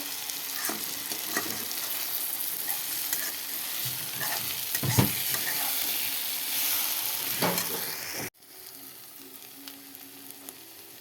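Bathua greens sizzling in a pan and being stirred, with a steady close frying hiss and occasional scraping strokes, then the sizzle drops away sharply near the end.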